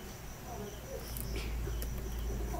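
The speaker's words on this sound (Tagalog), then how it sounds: "Parang narinig ko ang kuliglig sa inyo, Pastora." Crickets chirp faintly in the background at night, a thin, steady high trill running under a low hum.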